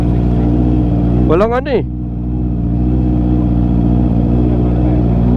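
A Honda CB650R with an electronic clutch runs close by at a night bike meet, a steady low engine hum holding an even tone throughout. Someone speaks briefly over it near the start.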